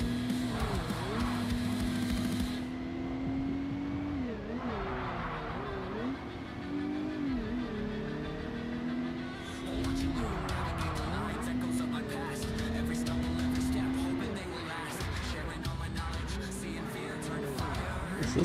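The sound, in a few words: car traffic driving past in video game MindsEye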